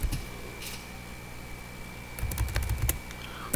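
A few quick key clicks on a computer keyboard, entering a number during Revit roof modelling, come in a short close cluster after a quiet hum.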